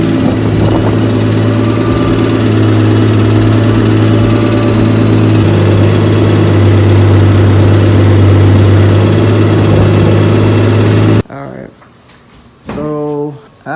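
A car engine idles steadily and loudly after being repaired, a constant low rumble for about eleven seconds before cutting off, followed by brief talk.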